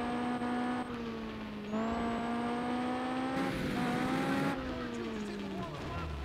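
A race car engine in the video game Juiced 2 Hot Import Nights, running on extreme nitrous, holds a loud steady high whine with gear shifts and rising revs, while someone talks over it.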